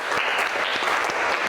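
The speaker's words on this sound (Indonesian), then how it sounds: "Untuk debat hari ini, ya, Ibu berikan tepuk tangan." Classroom applause after a school debate among ninth-grade junior high students, a dense burst of many hands clapping at close range that fills the whole moment with no talk over it.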